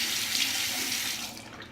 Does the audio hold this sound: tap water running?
yes